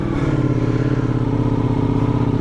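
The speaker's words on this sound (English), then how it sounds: "I hope I've got enough fuel to start the bike." A Ducati Multistrada V4S motorcycle engine runs close by with a loud, steady, throbbing low rumble, without any talk.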